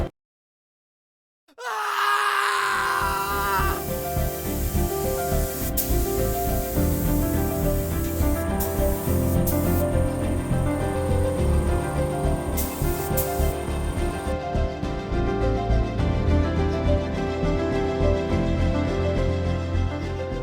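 A spray gun paints the bonnet of a high-standing Discovery outdoors, starting abruptly after a moment of silence and then hissing continuously and evenly at close range.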